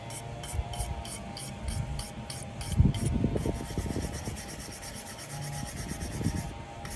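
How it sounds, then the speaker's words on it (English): An abrasive pad on a grinder scrubs the old gasket off the thermostat housing of a Jeep Cherokee, a rough rubbing rasp against steady rhythmic mechanical ticking, rising and falling through the stretch. "all you're trying to do while scrubbing this off is you just want to get all the old axis gasket off"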